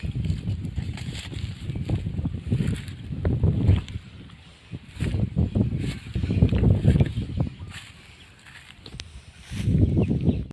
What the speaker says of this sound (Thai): มันลมอีกแล้วครับผม ลมแรงด้วยครับ